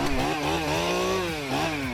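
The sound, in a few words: high-powered chainsaw cutting a tree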